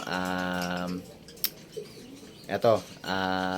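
African lovebirds give repeated bright, harmonic chirps and calls, loud and close, with short bursts at the start and end and softer chatter between.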